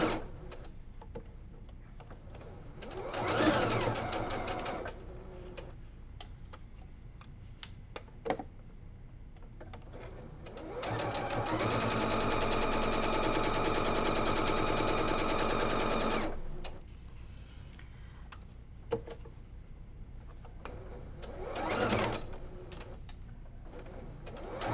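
A sewing machine piecing a Flying Geese quilt block, with short bursts of close, rapid stitching and one longer steady run in the middle, quiet handling between.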